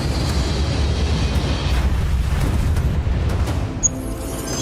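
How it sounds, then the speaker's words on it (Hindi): An explosion sound effect for a passenger plane crash over Karachi: a deep, heavy boom that rolls on as sustained low rumbling, loud and alone, fading slightly near the end. "फिर भी हुआ एक जोरदार धमाका।"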